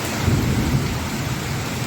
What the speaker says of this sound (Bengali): এখনো মুষলধারে বৃষ্টি হয়ে যাচ্ছে